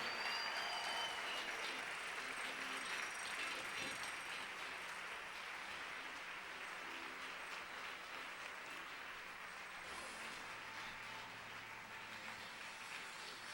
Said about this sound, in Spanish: dele un aplauso fuerte al Señor